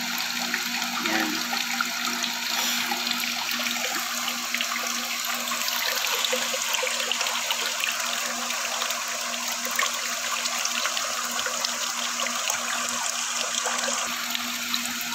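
Water running steadily through a mineral water filter membrane being flushed clean of rust, a continuous rushing, trickling flow with a faint pump hum underneath, unchanging throughout.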